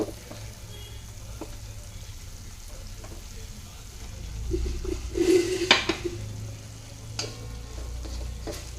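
Spices and gram flour frying over low heat for dhaba-style paneer bhurji, a low sizzle with spatula scrapes and pan clatter building in the middle, a few clinks of utensils, no speech.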